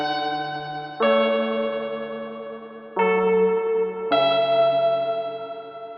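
Arturia V Collection CMI V synth playing the preset Johan: four sustained, bright, sampled-sounding chords entering one after another, each swelling and slowly decaying with a chorused, echoey shimmer, no voices.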